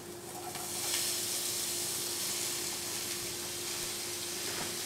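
Chopped vegetables frying in a pan with egg and Maggi masala give a steady, close sizzling hiss that swells in the first second, then holds evenly throughout.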